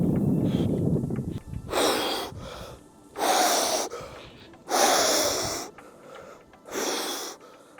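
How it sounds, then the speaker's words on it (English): Rapid, heavy breaths from a person standing in a cold lake at about 5.5 degrees Celsius, four or five loud gasping inhales and exhales in an uneven rhythm, close to the microphone. "You can see here my breath is going faster."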